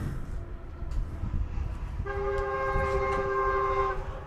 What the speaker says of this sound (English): We got ourselves a train running out in the outfield there.